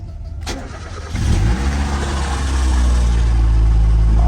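A Mazda Miata engine cranks briefly on a jump pack, then catches and settles into a loud, steady idle close by, with no talking.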